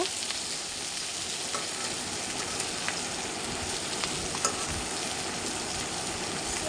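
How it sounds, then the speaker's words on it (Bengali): Fish frying in plenty of hot oil makes a dense, close sizzle with bubbling and scattered pops, steady and fairly loud throughout, with no one speaking. "প্রচুর পরিমাণে তেলগুলো ফুটছে মাছের"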